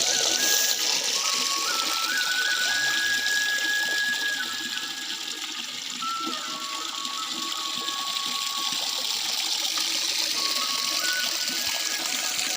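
Water pours and gushes steadily for a buffalo to drink in the dark at a rural home, a continuous near splashing stream with no talk.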